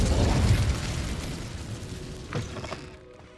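A fire spell cast in Hogwarts Legacy bursts out with a loud whooshing blast that fades into a crackling rumble, followed by a few fainter magical pops near the end.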